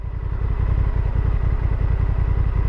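A Honda Africa Twin motorcycle engine runs with a steady, throbbing low rumble, close and continuous with even pulsing, on wet roads.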